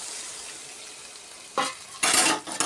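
Chicken curry frying in a pan gives a low steady hiss, then water is poured in and loud bursts of sizzling flare up in two or three surges near the end.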